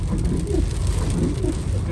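Heavy rain pours steadily in Faisalabad, Pakistan, in a continuous dense hiss, with a low rumble underneath like traffic moving through wet streets.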